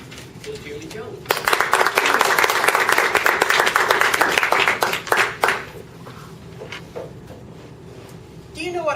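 An audience at a Toastmasters club meeting breaks into sustained, dense applause that lasts several seconds, then fades into a few scattered claps.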